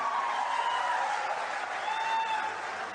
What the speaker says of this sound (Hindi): जोरदार तालियों से अभिनंदन करिए माननीय मुख्यमंत्री जी का।